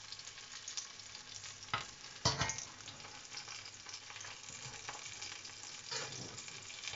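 Cakes frying in a pan give off a steady, close sizzle, with a few louder crackles and spits rising above it.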